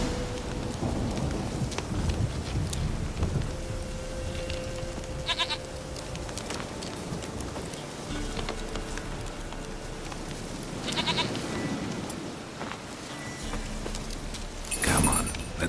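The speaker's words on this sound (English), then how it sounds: "There you are. Here, goat." In The Witcher 3, a goat bleats a few times, moderately near, over a constant rain-like ambience with occasional rumbling, and no one speaks.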